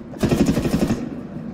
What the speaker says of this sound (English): Whoa, Abby, someone's shooting at me.